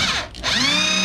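Power tool beveling the edges of a metal cooling plate: a loud, close high-pitched whine that dips briefly and then rises back to a steady scream, alone without talk.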